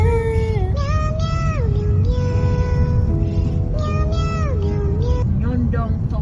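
A cat, or a voice imitating one, gives a string of about five drawn-out, rising and falling meows, loud and close over a constant low rumble in the background.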